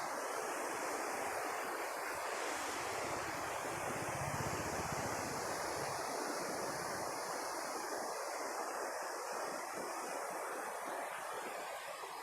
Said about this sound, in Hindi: मतलब कि रिवर फ्लो काफ़ी तेज़ी से हो रहा है।